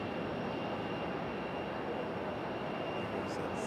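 A Boeing 737 jet at Raleigh-Durham airport gives off a steady, broad engine roar from some distance, even and sustained throughout with no voices over it.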